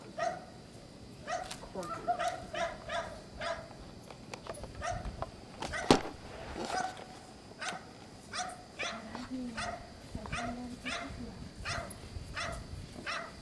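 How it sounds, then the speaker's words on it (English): A small dog barks repeatedly in quick, evenly spaced yaps over about thirteen seconds, fairly close and loud over outdoor background noise, with one sharper louder burst midway. "It's a little dog."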